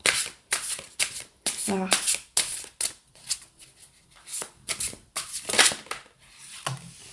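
Tarot cards being shuffled and drawn by hand, a run of crisp riffling bursts and flicks repeating in quick irregular rhythm, close up, with a French-speaking voice talking briefly between them.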